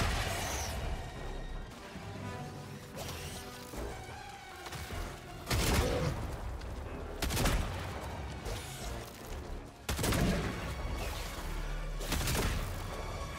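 Crossbow shots fired in the video game Helldivers 2, a handful of sharp impacts spaced several seconds apart, each a sudden crack over a steady bed of game noise.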